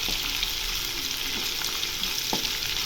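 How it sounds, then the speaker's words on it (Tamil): Chopped onion and green chilli fry in a pan for a chicken dish, making a steady, dense, loud sizzle with faint stirring scrapes and no voices. "இப்போ இது நல்லா ஃப்ரை ஆகட்டும்"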